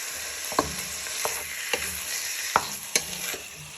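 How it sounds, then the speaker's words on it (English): Chicken thighs frying in butter in a frying pan give a steady sizzle, with several sharp clinks and scrapes of stirring spaced through it, close and clear with no talk. "Now you first want to start frying your chicken thighs in the frying pan."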